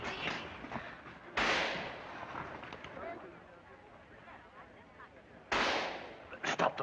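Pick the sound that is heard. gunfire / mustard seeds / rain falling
gunfire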